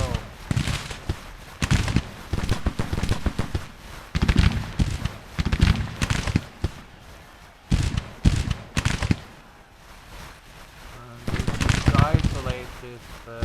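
Scattered musket volleys from Civil War infantry regiments firing down from slopes in Grand Tactician, crackling in irregular bursts under ongoing talk.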